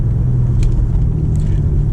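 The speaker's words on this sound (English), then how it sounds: "here's a little acceleration we could do" A BMW M5 Competition LCI accelerating, a heavy, deep engine rumble with a steady low drone heard from inside the car, close and loud with faint ticks above.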